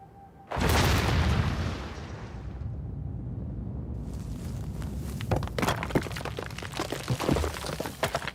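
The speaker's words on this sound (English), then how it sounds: "These carefully controlled explosions release hundreds of tons of salt rock from the mountain." Controlled blasts release hundreds of tons of salt rock from a mountain: a loud, sudden explosive boom that rumbles on, followed by a long roar of tumbling, crashing rock.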